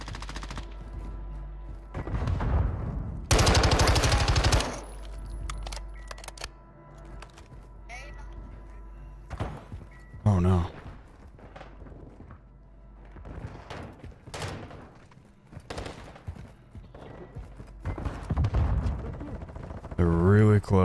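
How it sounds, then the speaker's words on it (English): Gunfire in a DMZ-mode shooter video game, with repeated bursts and single shots at varying distances, some loud and close, others distant, heard alongside talking players. "Shots down this way."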